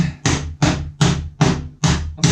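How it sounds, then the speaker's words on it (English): Hammer striking a chisel to break small wood pieces off a workbench build, six loud, sharp knocks in a steady rhythm close up, each with a short woody ring. "I'm going to take my hammer and I'm going to break these little pieces off like this"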